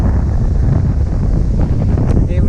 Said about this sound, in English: This is too windy, man.